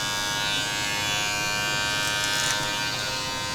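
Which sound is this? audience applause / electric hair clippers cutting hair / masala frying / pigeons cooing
electric hair clippers cutting hair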